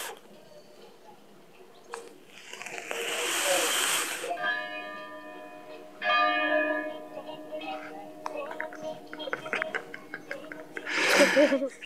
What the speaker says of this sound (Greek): Χτύπησε και η καμπάνα.